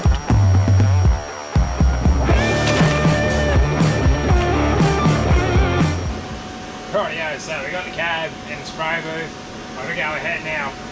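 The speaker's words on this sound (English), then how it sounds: "the pump's going to stay on for this thing to stay inflated" An air pump runs steadily to keep an inflatable paint booth inflated, a loud continuous droning hum that carries through the whole stretch, joined partway by softer clattering and shifting noises.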